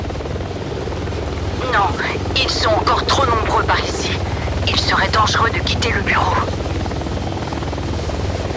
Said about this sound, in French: Vous pouvez monter dans l'hélicoptère.